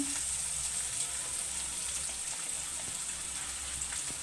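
Onion fries in oil for a Kathiyawadi peanut bhajiya curry, giving a soft, continuous sizzle and light crackle that holds evenly at a moderate, close level without any voices.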